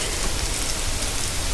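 Rain falling in the video game Minecraft, a steady dense hiss of drops that stays loud and even throughout with no gaps and no voices.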